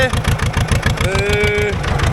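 A loud, raw Ursus C330 tractor engine chugging with a fast, rough pulse, running without an exhaust system and close, while a voice talks over it.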